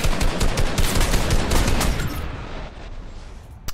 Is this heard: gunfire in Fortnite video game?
yes